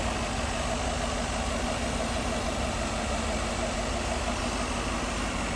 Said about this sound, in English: Give me an idea how it sounds. Smooth running V8.